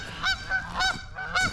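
Geese at Boone Lake give three loud, close honks in quick succession, each a short nasal call, with no talking over them.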